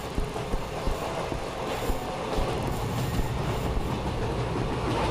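Train rolling steadily along the tracks in the horror game Anant Express, with continuous rumbling carriage noise and rhythmic wheel clatter, loud and close, with no voices.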